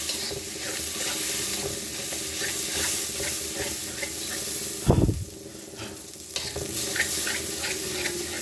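A paste of turmeric, chilli and coriander frying and being stirred in a pan for chicken curry. A constant close sizzle runs under repeated stirring strokes, with one heavier thud near the middle and no talk.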